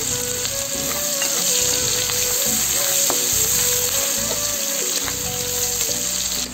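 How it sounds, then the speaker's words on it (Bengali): Spice paste fries in oil for a masala crab curry, a loud, steady sizzle with stirring scrapes and a tonal hum running underneath, close and continuous. "পেস্টটা লাল লাল করে ভেজে নেবো"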